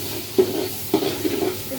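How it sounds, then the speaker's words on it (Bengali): Onions fry and sizzle with salt in a pan while being prepared for biryani, a steady close hiss broken by two sharp stirring scrapes. "আমার পেঁয়াজটা লবণ দিয়ে ভেজে নিয়েছিলাম"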